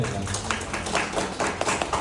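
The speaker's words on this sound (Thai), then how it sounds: "อยากให้เราปรบมือให้กับน้องเฟิร์สด้วย" An audience at a church gathering applauds a young person with steady, dense clapping that fills the whole moment at close range.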